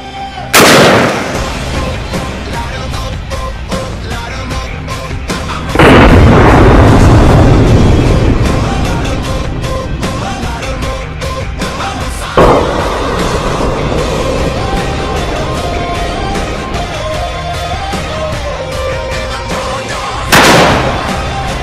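Loud blasts from 12 gauge Dragon's Breath shotgun shells fired at a turkey, three or four sharp booms spaced several seconds apart, each followed by a long roaring rush of flame and ringing decay.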